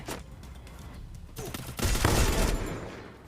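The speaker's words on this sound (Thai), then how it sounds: "อุ้ยมีคนยิงมาวะ ตรงไหนวะ" Gunfire in the Free Fire mobile battle game, a burst of several shots that swells in the second half and stays moderately loud, with no speech over it.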